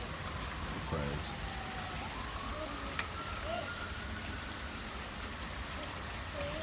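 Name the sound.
rain falling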